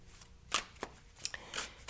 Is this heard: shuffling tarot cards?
yes